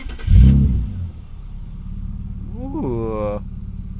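An automatic BMW E36 M3 with a Turner Motorsport exhaust and cat delete revs up from inside the cabin, a rising engine note that climbs and holds, after a brief exclamation from an occupant.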